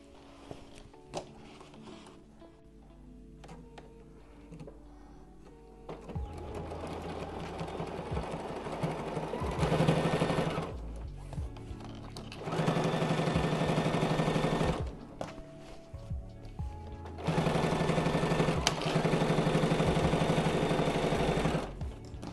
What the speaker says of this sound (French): Je vais coudre comme ça.